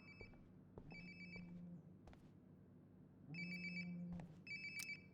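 A phone rings twice in the video game Life is Strange: Before the Storm, each ring a bright repeating electronic trill over a low murmuring room hum, with a short pause between bursts.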